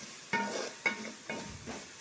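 Tomatoes cooking soft in a pan are stirred in three distinct strokes, each a short scrape and slosh over a low sizzle, close and fairly quiet.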